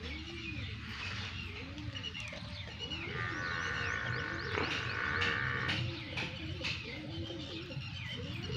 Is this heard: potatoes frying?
no